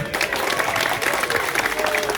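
A crowd at a Cheltenham event cheers and applauds for a sponsor, with continuous clapping and scattered shouts filling the space at an even, lively level.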